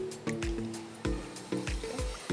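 Water pouring into eggless brownie batter in a bowl, a close, sloshing trickle with repeated glugging pulses over a couple of seconds.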